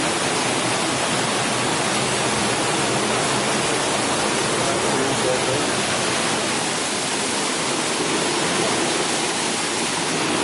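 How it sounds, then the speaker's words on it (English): Constant rushing water running under a water wheel at Ausserberg, a dense, steady roar like a strong flow pouring close by, unbroken throughout. "Aha, a water wheel."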